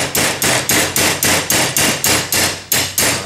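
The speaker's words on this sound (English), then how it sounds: "pound that to where it's about flat, and then I use an 1/8 inch punch, and I'm going to pound that in the rest of the way." Repeated metal hammer strikes flatten a part of a double trigger assembly, about eleven sharp, evenly spaced blows in quick succession, loud and close with ringing decay and no talk.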